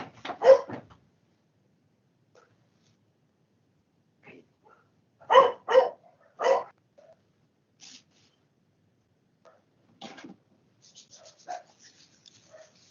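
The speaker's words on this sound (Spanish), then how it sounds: "Esta perra, que es buena para ladrar cuando viene alguien." A female dog barks indoors when someone arrives, with sharp isolated barks followed by a cluster of three quick barks and fainter scattered yelps further off, separated by near silence.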